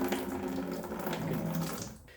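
Water runs steadily from the tap valve of a water container, a soft continuous splashing stream that fades at the end.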